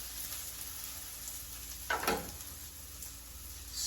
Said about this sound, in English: go ahead and add the garlic just so it blooms